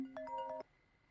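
A phone ringtone for an incoming call plays a short, clear melodic phrase of a few notes for about half a second, then cuts off abruptly into quiet.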